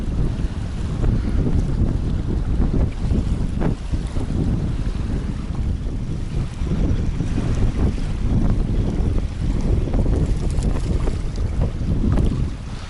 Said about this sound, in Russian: Ветер, конечно, страшный.